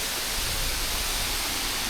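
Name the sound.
Bambarakanda waterfall flowing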